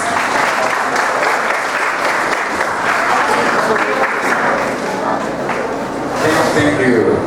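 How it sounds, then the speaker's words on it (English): Conference audience applauds as a speaker is introduced at a Japanese-Philippine meeting on urban redevelopment of Tacloban City, steady loud clapping throughout with a light swell near the end. "A round of applause, please."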